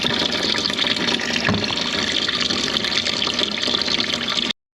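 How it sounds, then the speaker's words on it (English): Water running from a tap into a sink under low pressure in a building, a steady, loud close rush that continues unbroken for several seconds and then stops abruptly. "We'll try and fill the sink up, it's very slow"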